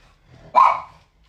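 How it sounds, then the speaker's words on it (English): A pet dog gives one short, sharp bark indoors, fairly loud and close, with quiet room tone before and after. "Excuse my dog barking in the background."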